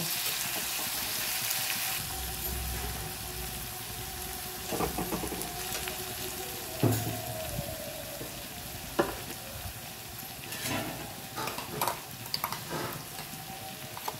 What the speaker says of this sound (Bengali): পেঁয়াজটা আমি একটু ভেজে নেব আগে